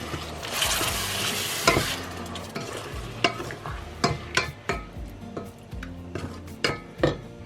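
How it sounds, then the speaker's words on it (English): Vegetable curry with chopped tomatoes stirred in a sizzling pan, a steady frying hiss under repeated scraping and clinking strokes of a utensil against the pan, closer and more distinct toward the end. "So I'm just going to give that a quick mix."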